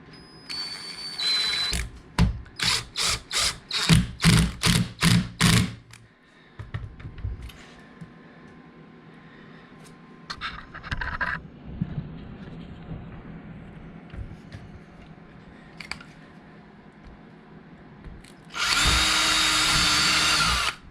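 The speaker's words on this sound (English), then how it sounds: "we're doing some screwing and gluing now" Power drill driving screws into wood trim during an RV renovation, with several loud close bursts of whirring separated by quieter handling noise and pauses, then a final sustained run, no talk.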